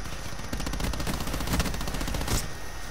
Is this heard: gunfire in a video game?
yes